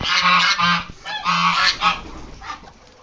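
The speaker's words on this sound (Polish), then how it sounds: "Głośno jest. Kaczuszki siedzą." Young ducklings in a loud brooder chatter and peep in shrill repeated bursts, close and continuous with short pauses, alone without talk.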